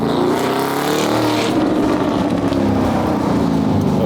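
A supercar's V12 engine with gated manual gearbox roars steadily at close range, a loud, rich, continuous growl with no speech over it.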